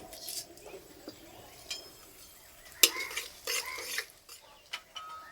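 Dried chillies and nigella seeds frying in mustard oil in a kadai, heard as a soft sizzle under a series of clinks and scrapes of a spatula against the pan.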